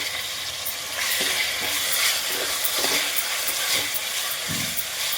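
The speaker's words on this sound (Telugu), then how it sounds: "చికెన్ ఇలా ఆయిల్లో ఫ్రై అయిన తర్వాత" Country chicken fries in oil with ginger garlic paste, a dense steady sizzle and hiss up close, with soft stirring scrapes and clunks from a utensil turning the pieces, no speech.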